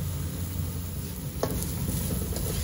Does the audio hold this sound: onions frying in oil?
yes